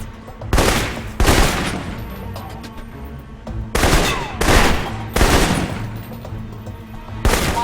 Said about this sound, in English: For long-range encounters, the assault rifle's the key. It's accurate, powerful.